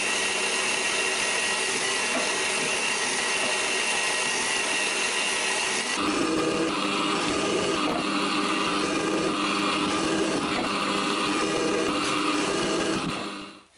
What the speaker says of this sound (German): Leisten sind jetzt gebohrt, gesenkt